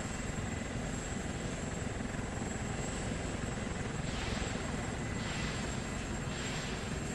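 Steady, continuous helicopter engine drone in Arma 2 with a broad rotor wash roar, unchanging in level throughout, no talking.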